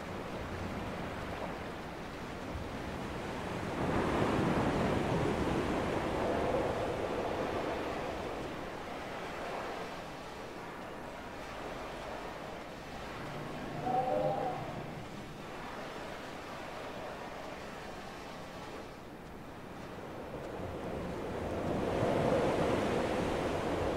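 Waves roll onto a windswept beach on the island in Dear Esther, the surf swelling and receding in slow, broad washes under a constant hiss of wind, with no voices.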